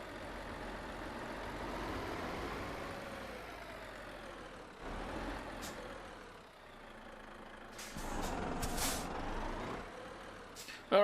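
A Renault T Range truck idles in Euro Truck Simulator 2, a low steady engine rumble that dips briefly mid-way, with short hissing bursts like air brakes near the end and no speech.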